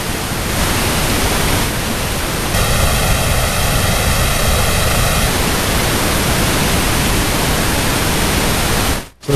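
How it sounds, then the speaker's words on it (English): Loud washy drum reverb return, soloed: a dense hiss-like wash with faint tonal ringing in the middle, cutting off abruptly at the end. "I'm going to add in that drum reverb"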